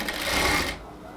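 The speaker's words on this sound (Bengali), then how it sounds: "এবার নেক্সট কাজ হচ্ছে হাতার বর্ডারটাকে প্রথমে সেলাই করতে হবে।" A sewing machine stitches the border of a cotton kurti sleeve with a steady, close whirring run that stops abruptly partway through, leaving a low hush.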